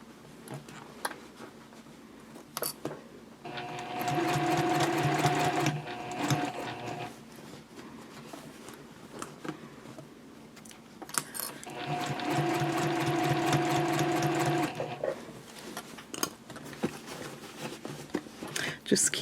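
A sewing machine stitches around the edges of a fabric basket in two sustained whirring runs of rapid needle chatter, with a pause between them and a voice talking throughout.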